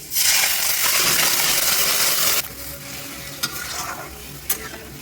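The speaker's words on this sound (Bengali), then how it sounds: "এখন এর মধ্যে ম্যারিনেট হয়ে রাখা যে চিকেনটা এর মধ্যে এবার দিয়ে দেবো।" Marinated chicken with ginger and garlic hits the hot pan in a loud, dense sizzle, which settles into a steadier, quieter fry broken by a couple of sharp clinks of the utensil.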